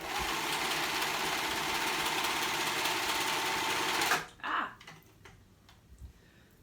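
A sewing machine stitches along a raw fabric edge while a paper bag skirt is made, a steady close whirring run lasting about four seconds before it stops abruptly, leaving faint handling noises.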